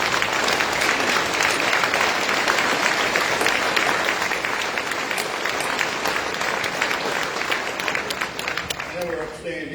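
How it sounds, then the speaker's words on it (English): A standing audience applauds presenters at a community information forum on mining and renewables, producing dense, sustained clapping that stays loud and continuous before tapering near the end. "I'd love you all to be upstanding and applaud this group of"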